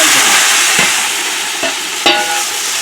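Tomatoes sizzling loudly in hot oil while being stir-fried for chicken biryani, a dense continuous frying hiss broken by a few sharp spoon knocks against the pan, close and with no talking.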